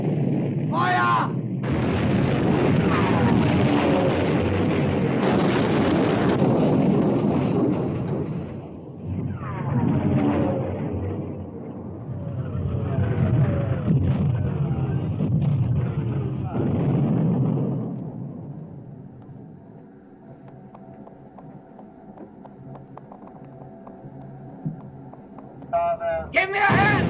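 Heavy naval guns fire on a warship in battle, a big booming blast followed by long rumbling roar and further heavy detonations over many seconds, dying down toward the end.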